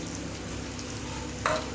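Onions fry in a pan for chicken kosha, making a brief, close, soft crackling sizzle with a small stirring clatter near the end.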